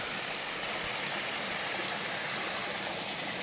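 A waterfall on a rocky mountain walk gives a steady, full hiss of rushing water, even and unbroken, heard nearby with no voices.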